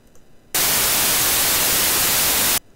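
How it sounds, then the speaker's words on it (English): Steady white noise generated in Renoise music software starts abruptly, holds loud and even for about two seconds, then cuts off. "We will take some white noise here."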